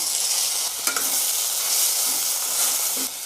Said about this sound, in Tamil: கொஞ்ச நேரம் வதக்கி விடலாம்